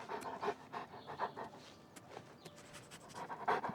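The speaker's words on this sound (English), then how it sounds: "Okay, nice dogs." Dogs in the Oblivion Remastered video game pant in quick, rhythmic breaths, faint and steady, with no talking over them.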